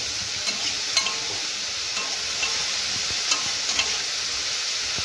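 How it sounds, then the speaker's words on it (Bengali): Cauliflower frying in a pan for khichuri, a steady soft sizzle with occasional clicks of stirring, close and fairly quiet, no voices. "এদিকে ফুলকপিটা ভেজে নেব"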